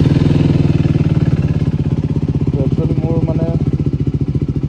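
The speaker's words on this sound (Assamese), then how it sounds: "তো মৰ্ণিং মই ষ্টাৰ্টে দিয়া নাই বাইকখন, তো ষ্টাৰ্ট দি লওঁ প্ৰথমতে" A modified KTM RC 390 motorcycle, a single-cylinder bike with a slack timing chain, idles with a loud, even, rapid thumping pulse close by, while someone talks over it.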